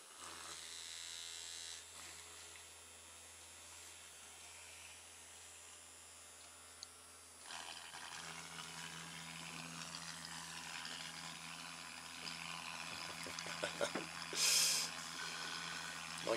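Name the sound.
duck brush bristle bot vibrating and moving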